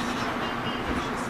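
A Rail Runner commuter train rolls along, heard from inside the car as a steady low rumble and hum with faint rattles, moderately loud throughout.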